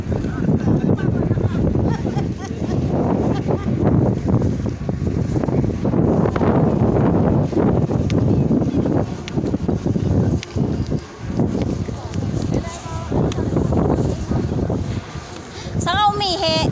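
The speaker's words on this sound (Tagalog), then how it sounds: "ang lakas ng hangin dito sa taas." Heavy, constant wind buffeting the microphone in a loud roar that barely lets up, with a brief voice breaking through near the end.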